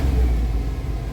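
A car engine idles after an idle air control valve replacement, a steady, close low rumble with a slight rev at the start, running smoothly with no talking.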